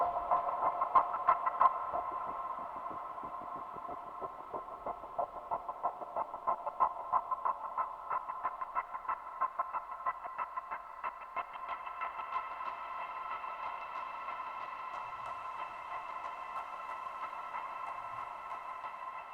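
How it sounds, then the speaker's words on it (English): A sustained, bright processed tone with a shimmering, pitched-up halo and long washy tail, steady and fairly loud throughout with faint plucked transients early on. "And this is another type of shimmer."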